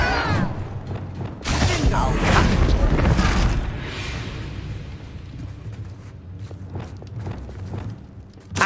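The Depulso force spell is cast in Hogwarts Legacy, a loud burst of whooshing, rumbling impact that swells and fades over a few seconds, followed by scattered thuds and clatter.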